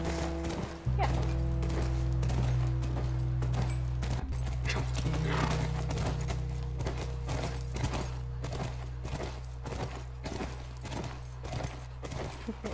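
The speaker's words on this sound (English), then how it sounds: "It looks like the horse in front of us." Horse hooves clip-clop steadily and close at walking pace in The Last of Us Part II, with a whinny early on and a low ambient drone underneath.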